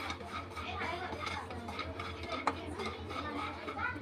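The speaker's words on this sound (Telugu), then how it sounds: "దూరంగా వేయించుకోండి మంచిగా." Peanuts roasting in a pan for tomato chutney, giving a faint steady rattle with light clinks of a stirring spoon against the pan, close by and low in level.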